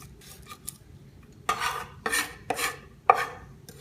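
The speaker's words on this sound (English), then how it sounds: "use the edge of your knife to paste it up" Knife edge pressed and dragged across garlic and salt on a cutting board to mash it into a paste for guacamole: four distinct scraping rasps, close and clear, separated by short pauses.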